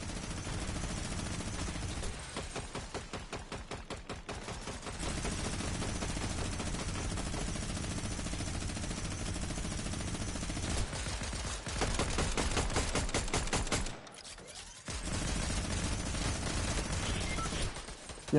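Someone shoots nearby in a Minecraft BedWars game, dense rapid bursts of gunfire that run almost continuously with a brief break, loud and close, with no talk.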